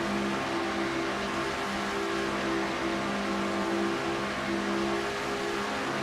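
Race car engine in a NASCAR racing video game, the Nathan's Hot Dogs Ford, car 30, at the Coca-Cola 600, droning steadily and loud at a sustained high pitch throughout with no talk.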